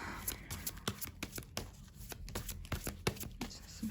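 Tarot cards are shuffled by hand in quick, papery riffles and taps, close and fairly quiet, with the slaps repeating throughout.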